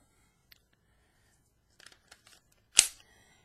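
Magazine release on a Taurus TH9c pistol with the magazine dropping free: a few faint small clicks, then one sharp, louder metallic clack near the end, close and quiet.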